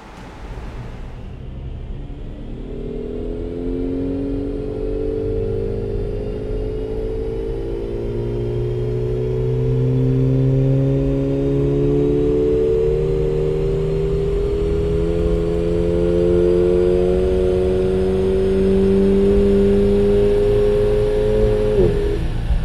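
An AMG Mercedes engine revs hard on a dynamometer, climbing steadily in pitch through long sustained pulls with a loud, continuous roar and no voices.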